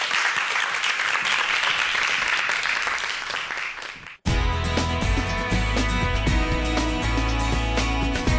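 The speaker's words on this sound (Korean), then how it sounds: "우리 최 교수님께 박수로 좀 강의를 부탁을 드려볼게요" An audience applauds a professor's lecture on global warming and climate, a loud dense clapping that lasts about four seconds and then cuts abruptly to music.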